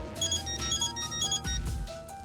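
Phone ringtone for an incoming call from the CEO in the Death end re;Quest video game: a bright, repeating electronic melody over soft game background sound, ringing steadily for a couple of seconds.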